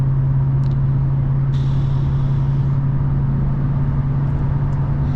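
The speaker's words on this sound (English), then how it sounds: "hopefully you guys can hear the exhaust a little bit" Exhaust of a V8 Genesis sedan while driving, a steady low drone and rumble heard from inside the cabin with continuous road noise and no talk.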